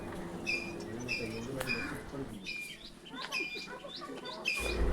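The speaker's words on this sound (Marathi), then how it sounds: "पक्ष्यांचं इतकं किलबिलाट सुंदर ऐकू येतं ना" Several birds chirp and tweet in a village in rural Maharashtra, with repeated bright, high calls coming in short bursts at moderate distance over a soft background, and faint low voices underneath.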